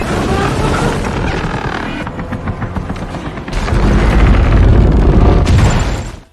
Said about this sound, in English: Nat, who saw that, tried to help Sully by shooting cannons at Joe's ship.